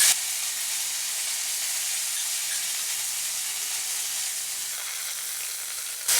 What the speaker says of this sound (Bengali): এবার দিচ্ছি নারকেল কোড়াটা। নারকেল কুড়িয়ে বেটে রেখেছি যাতে মিহি হয়।